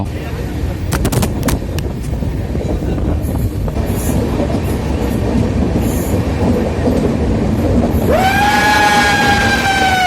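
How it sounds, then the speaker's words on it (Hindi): A passenger train carriage on a ride to Mumbai, with a loud continuous rumble of wheels and rattling, a few sharp clacks early on, then a rising squeal of wheels near the end. "ट्रेन रुका हुआ है और ट्रेन जैसे रुका मतलब मुंबई पहुंचने ही वाला है"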